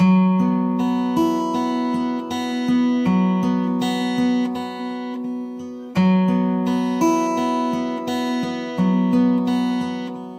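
A guitar picks out a steady melody of clear plucked notes, ringing and sustained, played alone without any voice.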